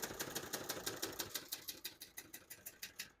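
Keys clack on a 1970 Hermes 3000 portable typewriter in a quick, even run of close, crisp strikes, about four per second, with no voices.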